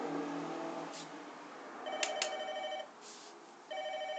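Telephone ringing at a family birthday gathering, repeated electronic ring bursts with short pauses, fairly near, over faint room background.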